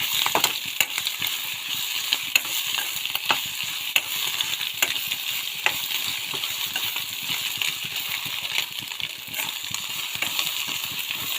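Beef fry sizzling hard in a pan, a loud dense crackle with constant sharp spits and pops throughout.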